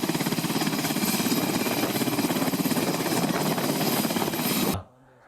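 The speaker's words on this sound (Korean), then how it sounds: "헬리콥터가 뜬금없이 아파트 아래에서 위로 올라옵니다" A film helicopter climbs up beside an apartment building, its rotor thudding in a rapid, loud, steady chop for nearly five seconds before cutting off abruptly into near silence.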